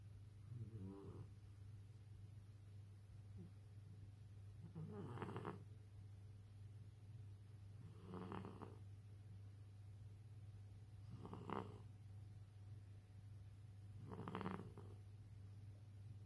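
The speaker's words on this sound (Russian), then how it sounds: "Кальмара наелся, спит и храпит." A cat sleeping after eating squid snores softly: four or five slow, evenly spaced wheezy breaths over a steady low hum, close and quiet, with no talking.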